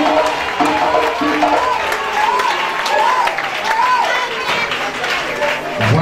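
A church congregation claps and acclaims the Lord, with a steady wash of applause and cheering voices throughout, loud and close, while a voice carries over the crowd.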